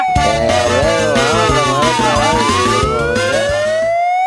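A loud, close ambulance siren wails continuously, its pitch sweeping up and down while a low engine rumbles beneath it, in a Tamil street scene about an ambulance.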